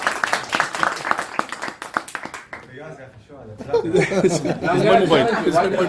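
An audience claps during a speaking event, first a run of sharp separate claps under a speaking voice, then chatter and chuckling from the crowd.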